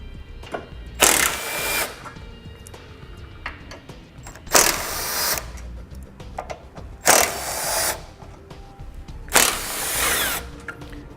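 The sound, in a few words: 12mm socket removing bolts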